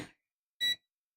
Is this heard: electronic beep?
yes